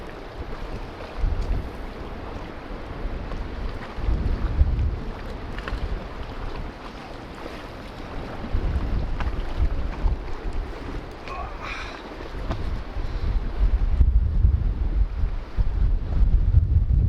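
Wind gusting across an exposed rock ledge, heavy low buffeting rumble on the microphone rising and falling in waves, loud and close, with no talking.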